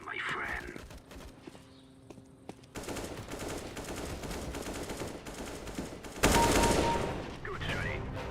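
Gunfire in a CS:GO match, bursts of automatic shots and loud reports with a sharp blast near the end, mixed with game sounds and someone talking.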